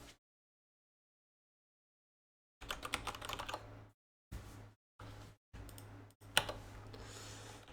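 Bursts of rapid clicking keystrokes on a computer keyboard, close and fairly quiet, come in several short runs separated by pauses, after a long silent stretch at the start.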